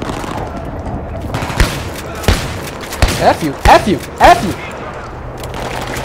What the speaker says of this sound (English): Oh, I love the shotgun.